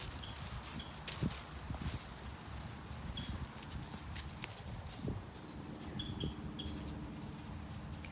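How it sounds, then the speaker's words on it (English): Faint birds chirp now and then outdoors on a dog walk, short high tweets scattered over a quiet background with soft thuds and footsteps nearby. "Can hear all of the birds."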